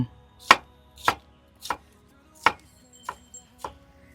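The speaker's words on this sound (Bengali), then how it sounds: "এখানে চলছে কাটাকাটি" Capsicum being chopped on a board for Maggi noodles at an outdoor forest picnic spot by a dam: six sharp, fairly loud knife chops at an uneven, unhurried pace, with no talk.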